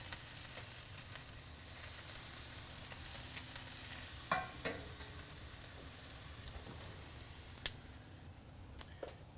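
Russian-style shashlik kebabs sizzle on a grill with a steady soft hiss and a few faint clicks and taps, fairly quiet and without talk.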